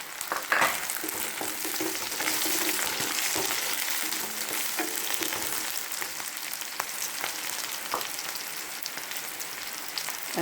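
Green chillies fry in a pot for a Kerala-style jackfruit biryani, giving a constant close sizzle with scattered crackles and light stirring clicks throughout.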